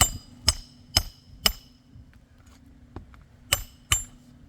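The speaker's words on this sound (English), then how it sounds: "you guys can see with each and every hammer blow how this roof's becoming worse and worse" A hammer strikes nails beneath roof shingles during a roof repair, landing about six sharp, ringing blows in an uneven rhythm with short pauses between them.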